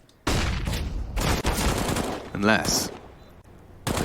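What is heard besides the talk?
gunfire in Counter-Strike video game match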